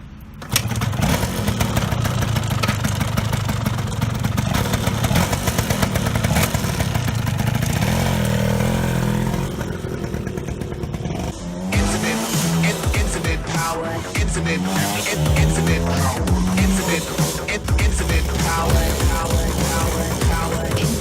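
A 1979 Yamaha DT175 motorcycle engine cranks and catches, then runs loud and close with rough revving and clattering idle, the note rising and falling in bursts through the second half.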